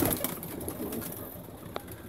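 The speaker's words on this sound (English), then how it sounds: "The white too, they are for long distance racing pigeon" Long-distance racing pigeons, black and white birds, coo in soft low murmurs beneath a steady, noisy background hum, with no talking.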